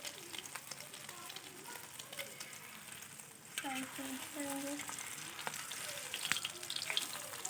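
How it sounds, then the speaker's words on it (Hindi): Chicken shami kababs frying golden in a pan give a steady, close sizzle with crackling pops throughout, and a faint voice briefly murmurs over it midway. "यहाँ पर हमने इसे बिल्कुल गोल्डन फ्राई करना है"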